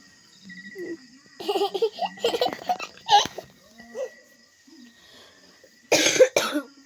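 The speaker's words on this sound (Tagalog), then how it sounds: "Inuubo kami guys." A few sharp coughs break out amid a child's giggles and murmuring voices at home, with a louder burst of coughing near the end.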